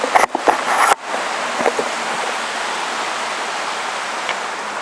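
Clear stream water flowing on an island, a steady broadband rush of running water close by, preceded at the start by a few brief knocks and rustles.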